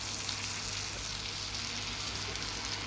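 Steady loud sizzle and crackle of mackerel frying in a pan, a constant dense hiss with no talking over it.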